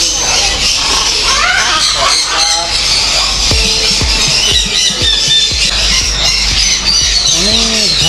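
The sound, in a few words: parrots squawking at Bangkok pet market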